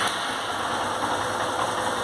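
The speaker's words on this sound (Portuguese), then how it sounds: "A moto funciona." A fuel-injected motorcycle with a misfiring, weak-running fault idles steadily close by, a constant even engine drone with no speech.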